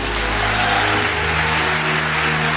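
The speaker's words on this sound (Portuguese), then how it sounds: "você pode aplaudir Jesus mais forte?" A church congregation applauds loudly and steadily, a continuous wash of clapping with a low hum underneath.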